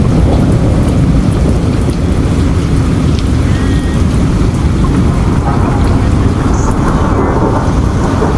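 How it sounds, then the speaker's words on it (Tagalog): Heavy, loud typhoon rain under storm signal number 4 pours down without a break, a dense roar of water with strong wind filling the background. "Masyadong malakas ang ulan ngayong araw na ito"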